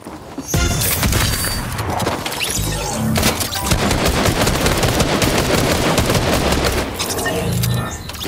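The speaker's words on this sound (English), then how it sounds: "He's shooting behind him." Dense, continuous gunfire from a Fortnite match, sustained shots and bursts packed together at close range for several seconds, with a brief lull near the start.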